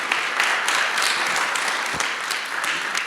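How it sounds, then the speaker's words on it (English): Audience applause at a panel discussion on equitable neighborhood park systems, a dense, steady wash of many hands clapping that continues for the whole stretch without talk. "Give them a round of applause."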